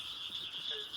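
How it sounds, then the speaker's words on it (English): Barking tree frogs call faintly in the distance, a thin, steady chorus with no other sounds over it. "this right here is a barking tree frog. You can hear them in the background as well."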